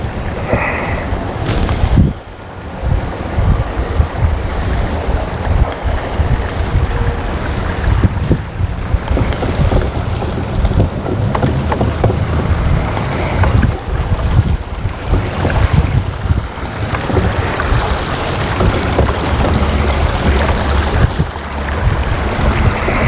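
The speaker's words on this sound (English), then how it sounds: "That wind is really kicking up now." Steady wind roars across the microphone aboard a drifting fishing boat on open water, a loud continuous buffeting rush with gusty swells and faint water slapping beneath.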